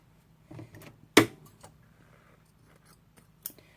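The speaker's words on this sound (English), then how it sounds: "I'm going to come back to this side and trim off these thread tails." Scissors trim thread tails while a canvas tote is sewn, giving a few sharp, isolated snips in a quiet room with long pauses between cuts.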